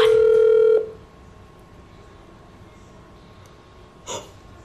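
A phone call ringing out on a handset, one loud electronic ring tone at the start that cuts off abruptly, followed by quiet room hiss and a short faint noise later.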